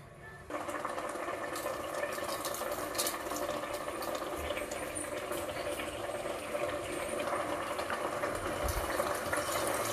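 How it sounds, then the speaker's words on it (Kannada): Water poured steadily into two glasses of washed, salted rice to make tomato bath, a continuous close splashing rush that starts abruptly and keeps an even level throughout. "ಸೊ ನಾನು 4 ಗ್ಲಾಸ್ ನೀರು ಹಾಕ್ತೀನಿ"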